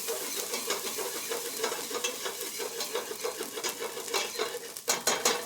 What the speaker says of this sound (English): Stir that around. Let that saute.